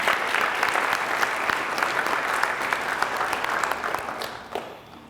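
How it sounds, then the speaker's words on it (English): Audience applause for sports booster officers at a high school spring sports banquet, steady clapping from a room full of people that fades out near the end. "So nice round of applause for those sports booster officers."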